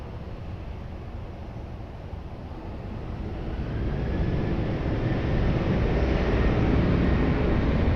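Ryanair airliner taking off from runway 20 at Lisbon Airport, a broad jet engine roar rising steadily and growing louder as the aircraft accelerates, heard from a distance with some wind.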